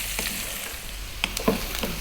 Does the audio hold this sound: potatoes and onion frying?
yes